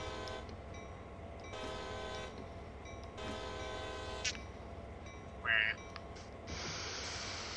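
A locomotive horn sounds in a train simulator game, several long, loud sustained blasts of a few seconds each with short gaps, plus a brief higher tone near the end, over a steady low engine rumble.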